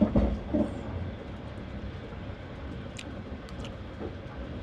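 A passenger train runs on rails between Astana and Burabay in Kazakhstan, heard from inside as a steady low rumble with a few soft knocks and faint high squeaks, no voices.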